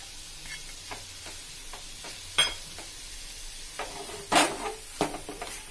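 Paneer burji being stirred in a pan after salt, chilli and coriander powder go in, with scattered spoon scrapes and knocks over a quiet sizzle, a couple of louder clatters near the end.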